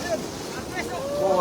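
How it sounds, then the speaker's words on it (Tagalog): Strong wind buffeting the microphone at the seaside, with a continuous roar, faint surf or water wash beneath, and a voice briefly in the background. "talagang malakas yung hangin"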